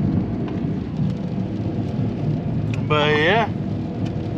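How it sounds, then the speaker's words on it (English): Steady rain with a low rumbling wash, heard from inside a vehicle on a mountain road trip in Leyte, Philippines; a continuous dense roar throughout, with a brief spoken phrase near the end. "It's a raining."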